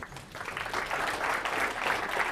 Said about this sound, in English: let's give Jason a warm round of applause.